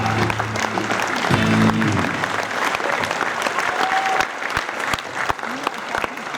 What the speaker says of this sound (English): This crowd is so big, I can hear them like out there.